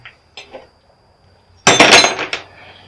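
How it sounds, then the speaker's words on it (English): Aluminum scrap pieces from a scrapped welder dropped in, a couple of light clinks followed by a loud close metallic clatter of several pieces landing together. "Now we'll add in the rest of the aluminum that was on that"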